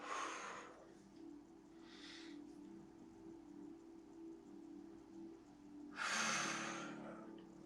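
Slow yoga breathing during a seated spinal twist: a strong breathy exhale, a softer breath about a second later, then another long loud breath near the end, all close and unvoiced over a steady low room hum.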